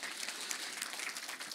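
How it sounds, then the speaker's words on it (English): Audience applause for event volunteers at a product-launch talk, a steady wash of clapping filling the room without pause, fairly soft and even throughout. "I really want to give huge applause still for the volunteers"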